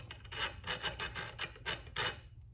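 A hand file rasps a burr off a racing seat mounting part, making about eight short, close scraping strokes in an uneven rhythm with brief pauses between them.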